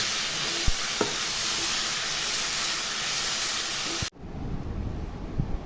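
Food frying in a pan hisses loudly and steadily while a spoon stirs it with a few soft knocks and scrapes. The sizzle then cuts off abruptly, leaving a much quieter room with faint handling sounds.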